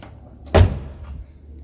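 The door of a restored 1971 VW Beetle swings shut in a single solid slam, close and loud, then a short dull rattle fades out.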